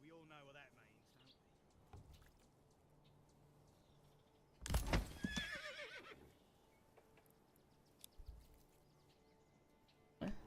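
A horse neighs in the Manor Lords medieval game: one loud, shaky whinny mid-clip, rising out of quiet ambient sounds with faint bird chirps and occasional soft knocks.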